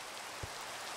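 Steady hiss of rain falling across a video game world, even and unbroken for the whole second, with one soft low thump near the middle and no voices.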